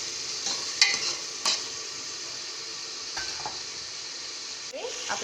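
Finely chopped tomatoes sautéing in a pan for chapdi undhiyu, a continuous close sizzle broken by spatula clinks and scrapes against the pan, with no voices.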